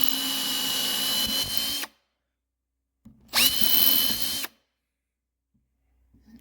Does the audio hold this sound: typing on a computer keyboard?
no